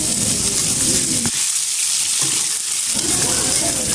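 Chicken curry frying in oil in a pan while being stirred, a loud, steady sizzle with scraping stir noises and a brief lull mid-way, close up.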